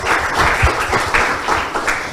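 An audience applauds a debate team from Instituto Superior de Don Bosco, a steady patter of many hands clapping with no voices over it.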